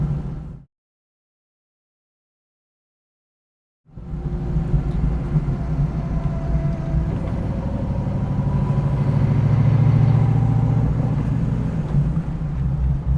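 A 1967 Pontiac Firebird's engine on its first drive, a steady mid-pitched rumble that cuts out briefly near the start, then returns and runs continuously, swelling a little louder toward the end, with no voices.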